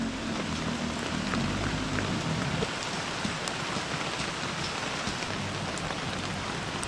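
Steady rain falling at a riverside campsite, a dense even hiss of drops on surfaces that continues without a break.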